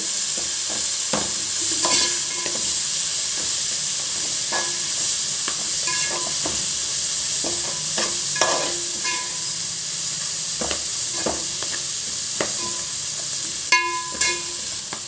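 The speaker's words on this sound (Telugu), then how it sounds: "ఇది కొంచెము పచ్చివాసన పోయే వరకు వేగించుకోవాలండి మెంతి కూడా చక్కగా వేగాలి" Fenugreek leaves fry in oil with a loud, hissing sizzle while a spatula scrapes and knocks against the pan at irregular intervals, close by and with no one talking.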